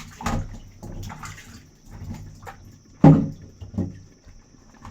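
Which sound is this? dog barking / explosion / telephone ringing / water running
water running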